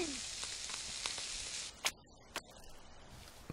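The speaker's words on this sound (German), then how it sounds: "dauert natürlich, bis das Wasser ein bisschen aufgekocht ist" Water heats over a campfire in The Forest with a steady hissing sizzle. The sizzle cuts off abruptly partway through, leaving a few isolated bursts and quieter background.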